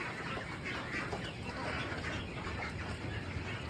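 Broiler ducks in a farm pen, a dense continuous chorus of quacking and clucking calls with occasional wing flutters, many birds close and far at once, no talk.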